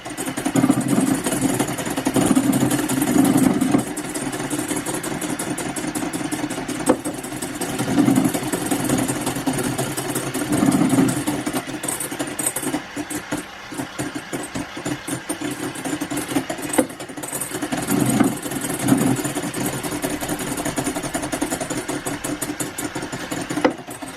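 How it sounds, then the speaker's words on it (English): An electric mixer whisks egg whites and sugar into stiff, glossy peaks for gluten-, lactose- and yeast-free lemon meringue cupcakes, a steady, close motor whir with slight surges in pitch and no talk. "So now I'm going to gradually add my sugar into this mixture, mixing until it equals stiff peaks and the mixture is thick and glossy."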